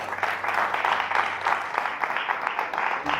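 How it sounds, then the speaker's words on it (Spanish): A church congregation applauds in a steady, dense wash of many hands clapping together, sustained and fairly loud throughout the short stretch. "denle un aplauso al Rey por eso"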